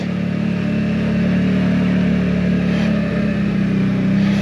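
A Keeway RKV125 125cc motorcycle rides over cobblestones, its engine holding a steady, close hum with a faint rumble from the rough surface, and no voices over it.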